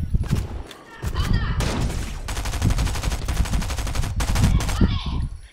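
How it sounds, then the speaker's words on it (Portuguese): Rapid gunfire in the video game Fortnite, with dense bursts of shots and sustained automatic fire running through most of the clip while players talk over it. "Tô atirando num aqui."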